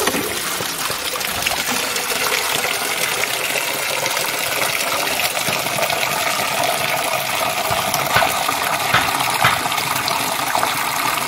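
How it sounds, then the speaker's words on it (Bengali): Water from an electric motor pump pours and trickles steadily into containers, a continuous close splashing gush with small irregular spatters and no talking. "মটর চালিয়েছি, জলগুলো তুলে নিয়ে আসি,"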